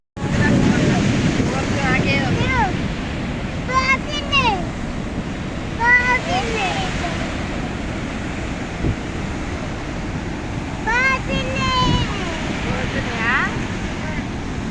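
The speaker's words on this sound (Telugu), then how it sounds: "మొత్తం ట్వంటీ ఫోర్ ఇరవై నాలుగు గేట్లు అయితే ఎత్తిరనమాట" Water roaring through the 24 opened crest gates of the Nagarjuna Sagar dam, a steady loud broadband rush that runs the whole time under wind buffeting, with people talking over it.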